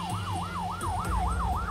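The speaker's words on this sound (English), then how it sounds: "The ambulance finally showed up." Ambulance siren arriving during an Ebola outbreak response in Monrovia, Liberia, a steady wailing tone rising and falling about every third of a second, loud and continuous over a low rumble of traffic.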